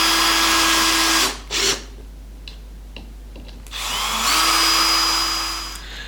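Cordless drill driving screws into the corners of a wooden stand for an airgun charging tank, two sustained whirring runs that strain and stop, close and loud, with clicks and handling noise between.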